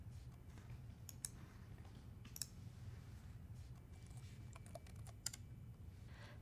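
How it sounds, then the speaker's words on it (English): A command is typed at a PowerShell prompt on a computer keyboard: soft, steady key clicks with a few sharper taps, heard quietly and close with no talk. "Open a PowerShell prompt and type out the application name like this."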